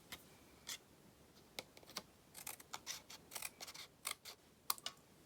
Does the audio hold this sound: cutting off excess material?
yes